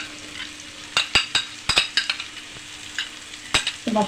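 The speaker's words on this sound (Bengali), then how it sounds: "সসটা দিয়ে আমি একটু ভালো করে নেড়ে ছেড়ে আমি আরও 2-3 মিনিট একটু রান্না করে নেব" Chili chicken sauce being stirred and fried in a pan, with a steady sizzle under repeated scraping stir strokes, close and moderately loud, no talking.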